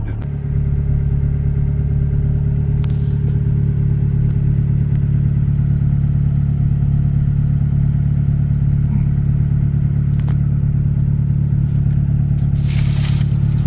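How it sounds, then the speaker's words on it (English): A turbocharged Honda car engine idles loudly and steadily close by, a constant low rumble with no revving, ending with a brief burst of noise. "it's just idling so fucking good right now."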